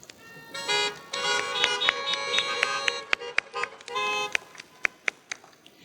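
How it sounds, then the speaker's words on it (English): Several car horns honk repeatedly at a drive-in graduation event, overlapping long blasts and short toots from multiple vehicles, some near and some farther off. "This is a good time to honk if you are in person"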